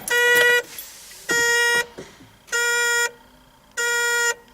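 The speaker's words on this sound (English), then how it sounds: "This has something that I would break on any car I ever owned. And it's this annoying buzzer" The key-on warning buzzer of a Datsun 280Z converted to electric drive sounds in four loud, steady tones, each lasting about half a second, separated by brief quiet gaps.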